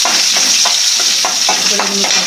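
Green chillies frying and being stirred in a pan of oil while making murmura uggani, a steady sizzle broken by regular scraping strokes of a spatula, close and fairly loud, with no talking.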